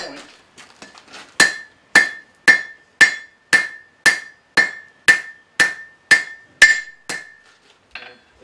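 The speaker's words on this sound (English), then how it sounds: "I'm using the rounded surface of the anvil, or the horn of the anvil, and this side of the hammer" A hammer strikes steel over the horn of an anvil while a letter opener's point is forged, giving about a dozen loud, evenly spaced ringing blows close up, with a few lighter taps before them and no voices.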